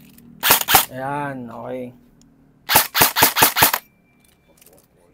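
An airsoft gun firing through a chronograph, with two sharp single shots followed by a quick burst of five, loud and close, and people briefly talking between shots.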